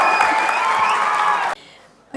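Audience applause at the I music launch for Shankar's film, a dense burst of clapping that cuts off sharply after about a second and a half, followed by quieter room noise.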